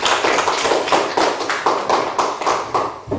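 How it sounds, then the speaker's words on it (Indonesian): A classroom of students clapping hands together in unison, crisp rhythmic claps repeating about three times a second, close and lively, with no talk over them. "Ya, bagus. Tepuk tangan."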